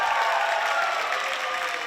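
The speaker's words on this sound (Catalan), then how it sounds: "Un fort aplaudiment per l'escola Guinardó." Loud, steady applause from a crowd at a school festival, continuous clapping filling the whole stretch without a break.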